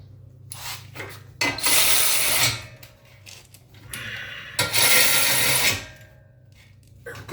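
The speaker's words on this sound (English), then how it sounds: "Bolt up the caliper bracket." Caliper bracket bolts on a Civic brake upgrade being driven in with a ratcheting power tool: two loud, close bursts of rapid mechanical ratcheting, each about a second long, separated by lighter clanks and handling noises, with no talking.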